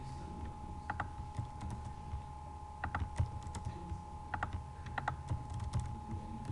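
Keys tapped on a computer keyboard in scattered bursts of light clicks over a steady background hum, moderately close with no talking.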